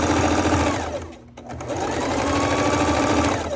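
A sewing machine runs a short back stitch tack, rattling steadily up close, pausing briefly as it reverses, then resuming its rapid even chatter.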